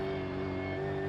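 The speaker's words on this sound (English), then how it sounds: "You always get a nice punch of this V8 when it comes through." A V8 Supercar on the Chicago street circuit gives a loud, continuous engine drone with a steady pitch, held for about a second, its sound reverberating between walls and buildings.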